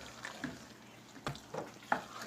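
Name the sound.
stirring potato and taro curry in a pan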